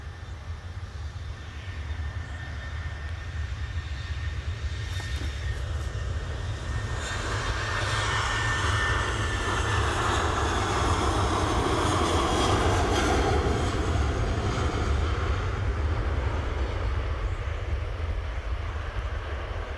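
A Ryanair airliner moves at Manchester Airport, a constant distant jet engine rumble and roar that swells slightly through the middle and carries on for about twenty seconds.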